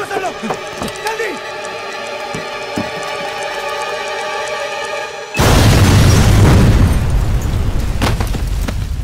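A bomb goes off in a Bollywood action film scene, a sudden loud roaring blast and rumble that follows a few seconds of music and shouting and continues to the end of the clip.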